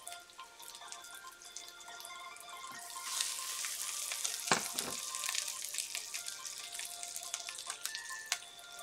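Hamburger steaks fry in a pan at a Japanese-style hamburg steak spot, a steady crackling sizzle with scattered pops and spits running close and continuous, no voices over it.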